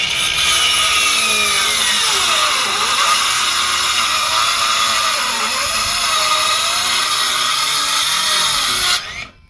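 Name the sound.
saw cutting Krono chipboard floor board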